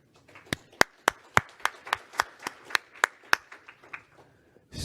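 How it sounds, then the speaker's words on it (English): Sparse clapping at a Netdev 0x17 TC workshop for Tom Herbert: about a dozen distinct, sharp claps in a steady rhythm from a few people, thinning out and fading toward the end. "I would like everyone to give Tom Herbert a bit of applause"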